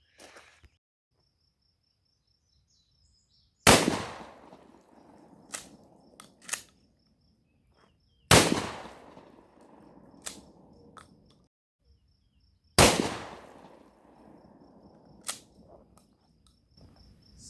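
Three loud, sharp shotgun blasts from a Mossberg Shockwave fired one-handed at an outdoor range, spaced roughly four to five seconds apart, each followed by a ringing decay and a few quieter clicks and clacks of handling between shots.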